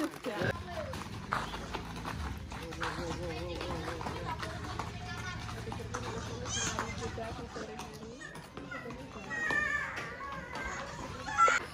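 Hooves of a horse clip-clop at a walk while a child rides it, regular light knocks under near-constant talk and children's voices.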